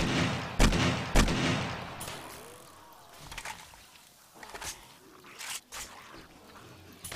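Two sharp, loud 9 mm pistol shots in quick succession, then scattered quieter shots and echoes from the video game 7 Days to Die, with no talking.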